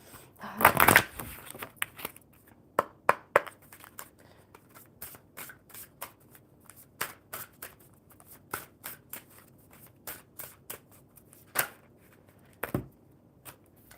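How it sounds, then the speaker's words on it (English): A deck of tarot-style cards being shuffled by hand at a table, giving a burst of riffling near the start followed by a long series of separate soft snaps and flicks, close and fairly quiet with no talk. "One more good shuffle."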